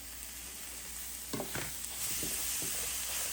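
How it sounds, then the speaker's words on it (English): Vegetables sauté in a pan for a conch stew, giving a continuous close hiss of frying with a few sharp scraping stirs in the middle. "now I'm just gonna saute the veggies"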